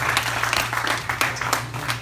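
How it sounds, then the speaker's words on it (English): Audience at a small live concert venue breaking into applause, a lively burst of many hands clapping with sharp individual claps standing out, close and loud. "Please give them a big round of applause."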